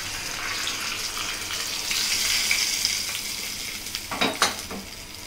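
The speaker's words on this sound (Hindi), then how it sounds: "मैं इसमें डालूंगी पंचफूरन मसाला, रेड ड्राई चिली और मैं इसमें डालूंगी करी लीव्स।" Panch phoron, dried red chili and curry leaves sizzle in hot oil for dahi baingan, a steady loud crackling hiss that ends with a few sharper spatters.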